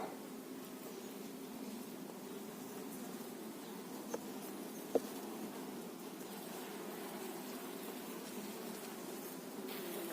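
Carpathian honeybees crawling on a hive frame give a soft, steady low hum that stays faint and even throughout, with a couple of small clicks partway through.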